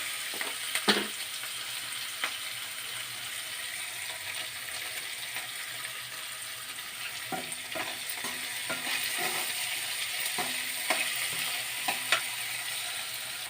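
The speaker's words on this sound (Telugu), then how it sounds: "ఉల్లిపాయలు, కొంచెం కరివేపాకు వేసుకొని ఇలా కొంచెం సేపు ఫ్రై చేసుకోవాలి" Onions, green chillies and curry leaves fry in a pan with a steady, fairly quiet sizzle, broken by occasional spatula scrapes and taps against the pan. No one speaks.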